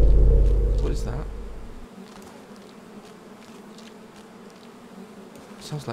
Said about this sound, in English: Sounds like bees.